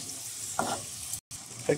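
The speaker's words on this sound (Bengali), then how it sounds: "হলুদ দিয়ে দিলাম, এবার একটু নাড়াচাড়া করি" Wild goat meat korma with turmeric being stirred in a hot pan, a continuous close sizzle with a couple of short scraping strokes, loud and steady apart from a brief cut in the sound.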